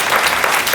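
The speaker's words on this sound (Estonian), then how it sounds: "Teeme aplausi, võtame nad vastu." A studio audience at an Estonian dating show claps in a brief, loud, dense burst of applause welcoming guests onto the stage.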